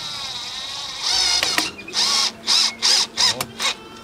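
A cordless drill whirs in a series of short bursts, about six quick pulses with brief pauses between them, close and fairly loud.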